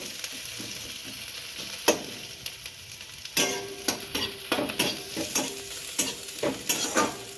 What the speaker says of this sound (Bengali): তার জন্য পেঁয়াজটা একটু ভেজে নিলাম